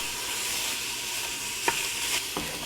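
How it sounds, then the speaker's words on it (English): About half a pound of mild Italian sausage browns in a pan, a soft constant sizzle broken by a few short scraping stirs near the end. "I'm going to be browning up about 1/2 pound of Italian sausage."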